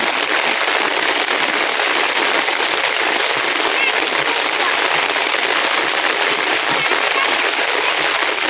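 Heavy rain pours down in a village as a dense, steady, loud hiss of drops, unbroken throughout, with no one talking.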